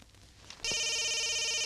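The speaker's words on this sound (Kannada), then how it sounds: "Please switch off your mobiles." A mobile phone in a college classroom breaks into a loud electronic ringtone after a quiet start, a steady tonal ring that continues to the end with a few soft knocks underneath.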